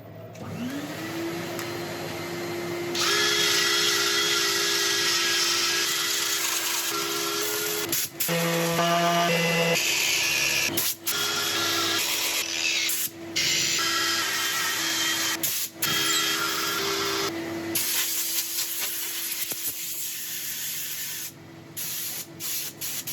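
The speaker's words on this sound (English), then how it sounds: "sanding, thankfully, is done" A lathe motor hums steadily while sandpaper rasps against spinning wood in long, loud stretches, pausing briefly now and then.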